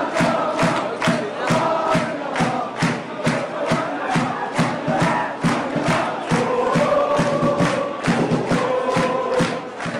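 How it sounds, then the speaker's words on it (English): Football fans at Celtic's stadium roar and chant in unison, a loud dense crowd with rhythmic beats or claps punctuating the singing throughout. "The culture of cheering and chanting fans is well established in Kenya, but at Celtic, they have taken it a notch higher."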